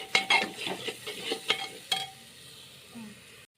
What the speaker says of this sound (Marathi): मसाल्याला रंग येईपर्यंत चांगलं परतून घ्यायचं आहे.